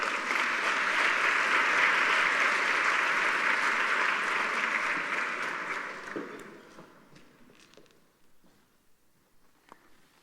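A large audience applauds as the panelists are welcomed at a panel discussion, a dense and steady round of clapping that holds for about six seconds, then thins out and fades to a few scattered claps.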